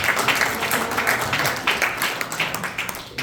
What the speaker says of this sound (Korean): 우리 임원들께 다시 한번 박수